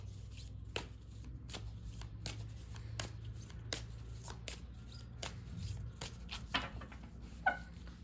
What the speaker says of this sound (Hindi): अब हम गाइडेंस के लिए भी 2 कार्ड्स निकालेंगे